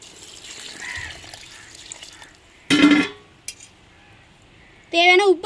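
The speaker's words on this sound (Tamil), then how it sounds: "அளவு தண்ணி சேர்த்துக்கிடுவோங்க" Water splashes and trickles into a cooking pot with rice for crab biryani for a couple of seconds, followed by short bursts of a voice speaking.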